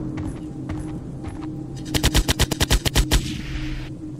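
Rapid automatic gunfire from the video game Z.I.O.N., a tight burst of about a dozen loud, evenly spaced shots lasting just over a second over a low game hum, then fading into a brief hiss.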